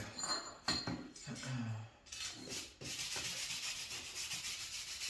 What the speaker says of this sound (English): Just giving it a fine brushing will give it a good finish